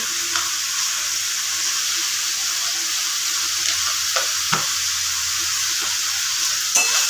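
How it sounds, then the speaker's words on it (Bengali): Goat liver and potatoes frying in spiced oil for a spicy chorchori, a steady bright sizzle with a few quick scrapes and taps of the stirring spoon against the pan. "মেটেটাও দিয়ে দিলাম খুব ভালোভাবে একটু কষিয়ে নেব"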